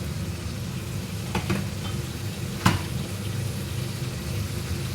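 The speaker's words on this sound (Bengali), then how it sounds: "গরম জলটা ঢেলে দেবো, এটা 5 মিনিট চাপা দিয়ে রাখতে হবে।" Hot water is poured over couscous in a bowl, a steady hissing, bubbling wash of sound with a couple of faint clinks partway through.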